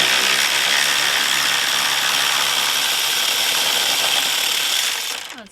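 A wrench works on the bolts that hold an outboard engine to a boat's transom, giving a steady, loud mechanical ratcheting and grinding noise that runs without a break for about five seconds before it tapers off.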